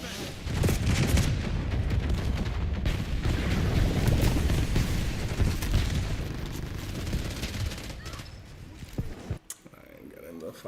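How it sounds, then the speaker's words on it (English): A flashbang grenade goes off during a Call of Duty Black Ops 6 hardpoint match, buried in a dense, continuous wash of gunfire and game noise, with a sharp dip and crackle near the end. "Flashbang."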